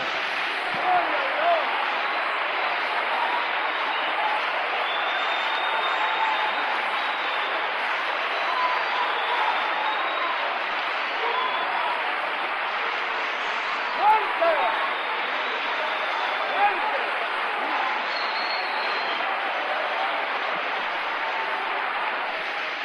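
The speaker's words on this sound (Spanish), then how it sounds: "Nos ponemos de pie y le damos un aplauso al Señor, autor de esto." Steady, dense applause from a standing church congregation during an evangelical sermon, a continuous wash of clapping held at an even level for over twenty seconds with a few louder claps and faint voices mixed in.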